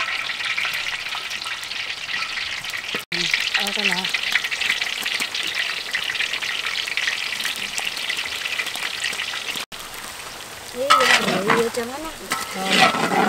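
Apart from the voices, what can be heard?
bananas frying in hot oil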